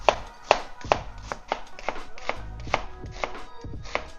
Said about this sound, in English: Half a yellow onion. Just going to slice it.